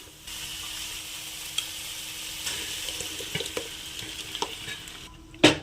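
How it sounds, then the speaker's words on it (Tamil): Mashed toor dal being added and stirred into a pot of drumstick sambar, with steady soft stirring and scraping noise throughout, a few light clinks, and a sharper knock near the end. "இப்போ நம்ம இது கூடவே கடைஞ்சி எடுத்துக்கிட்ட பருப்பு ஆட் பண்ணிக்கலாம்"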